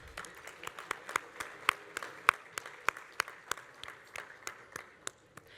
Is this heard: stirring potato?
no